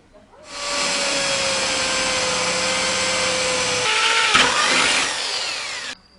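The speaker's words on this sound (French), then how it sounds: "et je vais les percer." A power drill bores holes for fittings on a handmade drum, a loud, steady whine held for about five seconds that shifts pitch slightly as the bit bites, then winds down and stops.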